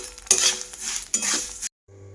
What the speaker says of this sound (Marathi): त्याच्यामुळे आता मी मोहरी काढून घेते